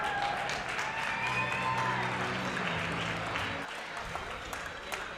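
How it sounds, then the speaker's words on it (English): Boxing fans in the arena applaud at the final bell of a pro fight, a broad wash of clapping and crowd noise with a commentator talking over it, easing off near the end. "The fans here applauding."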